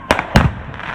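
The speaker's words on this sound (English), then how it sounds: "Firecrackers, bottle rockets," Firecrackers and bottle rockets go off in the street, two sharp close bangs in quick succession over a steady background hiss.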